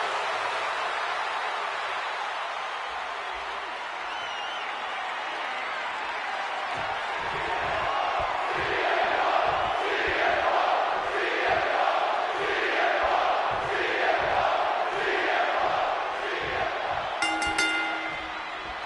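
A huge WrestleMania arena crowd roars for CM Punk during a title match, a dense sustained cheer that swells and pulses with rhythmic chanting, heard from within the crowd.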